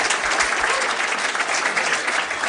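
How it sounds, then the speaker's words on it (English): Audience at a Christian media summit in Jerusalem applauding the panelists, a dense, steady wash of many hands clapping close up that holds at full loudness throughout. "Let's round of applause for our panelists."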